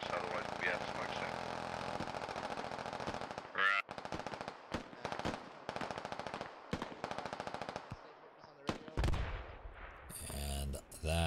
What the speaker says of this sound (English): that might have been the barrage they sent off there